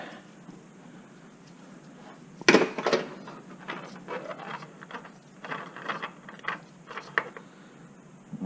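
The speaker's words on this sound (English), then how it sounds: "we'll use a little bit of a wrench to loosen that up" A wrench loosens the oil filter on a Subaru Legacy during an oil change, giving a sharp metallic knock followed by scattered ratcheting clicks and scrapes at close range, fairly quiet, with no talk.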